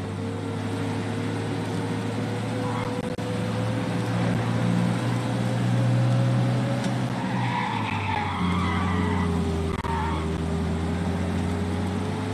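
Racing car engine in the video game Mafia: Definitive Edition drones steadily with rising and falling pitch, tire squeals and skids breaking in, a fast chase sound with no speech.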